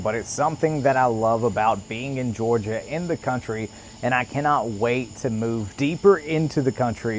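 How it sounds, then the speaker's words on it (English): Steady, high crickets chirp in the background of rural Georgia countryside at dusk, a continuous thin trill running beneath a person talking throughout. "I don't know if you can hear the sound of the crickets going in the background"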